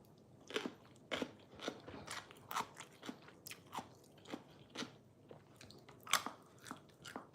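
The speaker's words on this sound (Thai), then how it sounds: "eating papaya salad anyone want to join me" Close crunchy bites and chewing of Thai papaya salad (som tam), a loose irregular series of crisp crackling crunches with quiet pauses between, no voices.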